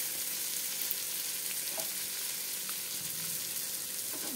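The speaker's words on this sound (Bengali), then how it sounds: "কাঁচা লঙ্কাটা একটু নাড়াচাড়া করে" Green chillies are stirred through frying masala in a pan, giving a soft, steady sizzle that stays faint and even throughout, with no voices.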